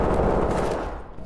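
Sustained, dense gunfire fills this short, loud burst from the tactical shooter Ready or Not, a continuous rattle of shots up close that eases slightly toward the end.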